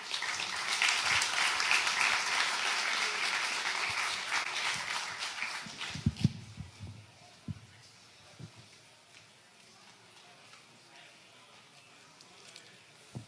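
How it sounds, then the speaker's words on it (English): Conference audience applauding after a talk at BSidesSF 2017, a dense burst of many hands clapping that runs for about six seconds, then thins into a few scattered claps and quieter room noise. "Another round of applause for him."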